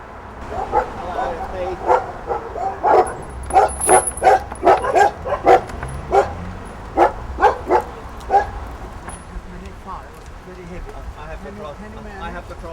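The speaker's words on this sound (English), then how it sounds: "he's got to get rid of some of the dogs to keep the noise down" A dog barks repeatedly in a quick, uneven series of sharp yaps, close and loud, then falls quiet against low background noise.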